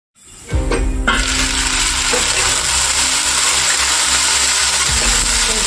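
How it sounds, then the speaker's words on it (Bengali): Potatoes for Bengali aloo posto start frying in a pan, a sudden burst of hot-oil hiss that settles into a loud, continuous sizzle, close up, with no talking. "আলুগুলো খানিকটা লাল লাল হয়ে এসছে, আর একটু ভেজে নেব"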